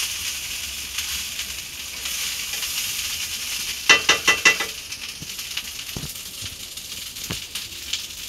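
Cooked rice being stir-fried in a pan gives a low, steady sizzle, interrupted midway by a quick run of four sharp spatula taps and later scattered scraping knocks.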